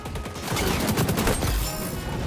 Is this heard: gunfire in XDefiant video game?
yes